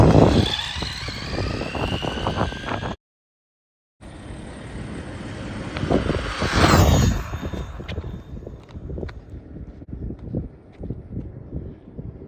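A Traxxas Rustler RC car on a stock Velineon power system running at high speed in cold weather gives a whining motor buzz with gritty skidding bursts and wind rush, broken by a second-long dropout, then fading into scattered crackles.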